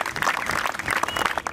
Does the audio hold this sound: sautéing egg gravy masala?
no